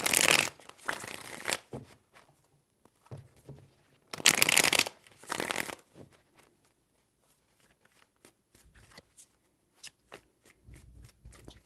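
Tarot cards riffle-shuffled in two loud bursts, then softer scattered taps and shuffling sounds, close up with no talking.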